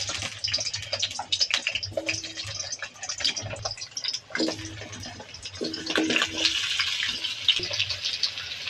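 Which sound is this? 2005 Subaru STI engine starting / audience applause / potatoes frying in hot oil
potatoes frying in hot oil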